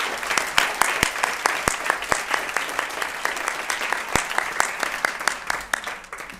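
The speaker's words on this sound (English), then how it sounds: "So let's give everyone a round of applause" A church audience at a Presbyterian women's celebration gives a warm round of applause, dense steady clapping with a few sharper individual claps standing out, sustained throughout before easing slightly at the end.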